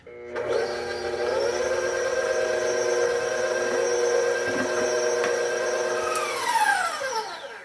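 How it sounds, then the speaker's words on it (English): An electric mixer runs on low through coconut milk bun batter, giving a steady whining hum that holds evenly, then winds down near the end, close and alone. "I'm just gonna mix this on low until it's combined"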